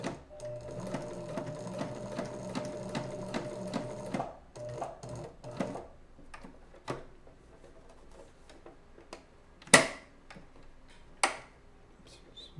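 A sewing machine runs a fast, even stitching rhythm through Spider-Man glove material, reinforcing a thick embroidered-style edge, then stops and gives way to scattered handling clicks and two sharper knocks.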